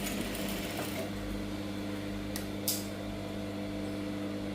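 Sewing machine stitching the lining of a saree blouse, a steady close-up hum throughout with a couple of brief higher clicks near the end.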